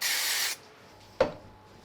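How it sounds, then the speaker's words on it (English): A half-second hiss of spray glue from an aerosol can onto the back of a paper card sentiment, close and clear, followed by quiet and a single soft tap. "I'll use a bit of spray glue on the back of the sentiment"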